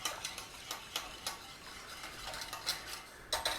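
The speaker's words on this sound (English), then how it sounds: "We want to stir on there." A spoon stirring milk into country gravy in a pan, making soft rhythmic scraping ticks against the pan at roughly regular intervals, close but faint.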